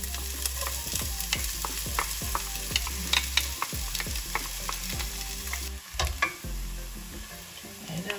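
Onions frying in olive oil in an Instant Pot, a close, steady sizzle broken by frequent clicks and scrapes of stirring, with a low hum underneath.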